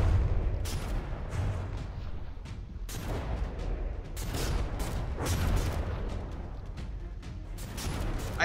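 Naval cannons firing CRAM shells in the ship-combat video game From the Depths, a dense barrage of loud booming blasts overlapping continuously with rumbling bursts, no talk.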